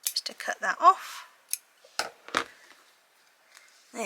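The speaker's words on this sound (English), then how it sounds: "I'm just going to use my scissors" A few crisp scissor snips, close and fairly quiet, separated by short pauses, with faint rustling between cuts.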